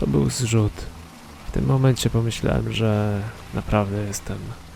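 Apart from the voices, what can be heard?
No distinct noise like a dog, phone or traffic.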